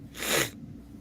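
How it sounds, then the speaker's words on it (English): A single human sneeze, close and fairly quiet, with a quick sharp burst of breath that fades into soft breathing. "Sorry, I gotta like sneeze."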